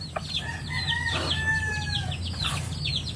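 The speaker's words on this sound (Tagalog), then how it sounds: "Ito na yung mga unang sisiw. Ayan na sila malalaki na." Farm chickens in a rural province, including young birds raised from chicks, cluck and squawk nearby while a rooster crows once in a long, drawn-out call, all over a low background rumble.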